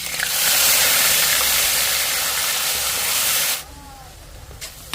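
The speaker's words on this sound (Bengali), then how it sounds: "আজ তেজপাতা, ডালচিনি দিয়ে ফোড়ন দিয়ে নিলাম, পেঁয়াজ আর কাঁচা লঙ্কা বাটা" Bay leaf and cinnamon hitting hot oil for a tempering, a loud close hiss of sizzling that holds for a few seconds and then cuts off abruptly, leaving quiet.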